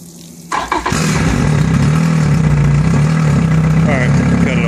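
Boat outboard motor on water cranks with a short stutter, catches, and settles into a loud, steady rumbling idle that holds to the end.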